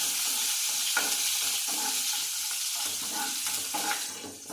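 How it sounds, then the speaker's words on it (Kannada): Cumin and garlic frying in spluttering hot oil in a pan, a steady crackling sizzle with occasional sharper pops and stirring scrapes, close and alone without talk. "ಸೊ ನೋಡಿರಿ ಎಣ್ಣೆ ಚಟ್ಪಟ್ ಅಂದೈತಿ, ಜೀರಿಗೆ ಹಾಕಿ."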